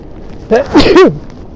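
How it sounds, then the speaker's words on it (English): One loud sneeze up close: a sharp intake of breath followed by a forceful, voiced burst, then quiet. "About to sneeze."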